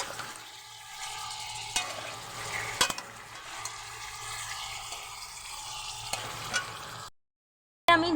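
Salted chicken pieces frying in a pan and being stirred, giving a soft steady sizzle with occasional light clinks, fairly quiet, then cutting briefly to silence near the end.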